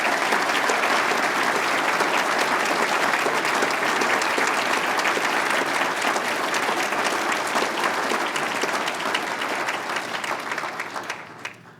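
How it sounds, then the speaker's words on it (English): A large audience at a university ceremony claps in sustained, dense applause that holds steady and loud before tapering off at the end, with no talk over it. "could I ask you to give a round of applause to all the staff, the Vice-Chancellor, and everybody else in this university"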